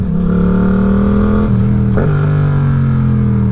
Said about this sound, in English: You can hear that blip of the throttle as I downshift.